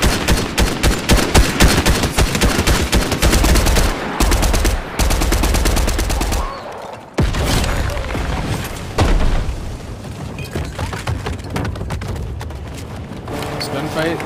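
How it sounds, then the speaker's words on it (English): Fortnite gunfight with rapid bursts of automatic gunfire and booming shots, loud and nearly continuous, with brief pauses and players talking over it. "This gunfight, like, right in front of us."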